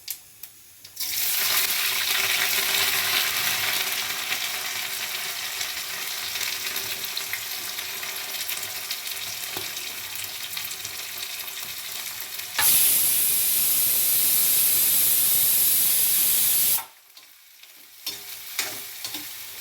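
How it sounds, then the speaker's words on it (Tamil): Sliced onions, cumin and curry leaves sizzle loudly in a hot pan while being stirred, a dense continuous frying hiss that swells louder midway, then cuts off, leaving a few faint clinks. "வெங்காயம் நல்லா செவக்க வதக்கணும்"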